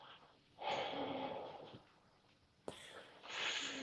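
A man imitates the breath of fire breathing technique, with quick forceful exhales and sharp nasal snorts in short bursts, close and fairly quiet.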